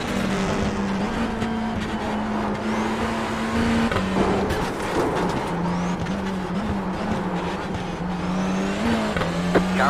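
Touring cars race at Knockhill in the iRacing sim, a loud, steady engine drone with shifting pitch as cars run close together and others pass nearby, with no talk.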